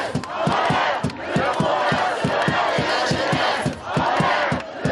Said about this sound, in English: the crowd started a chant where they were bragging that it's the youth that got this done.